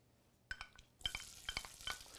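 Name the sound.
onions sizzling in olive oil in a hot pan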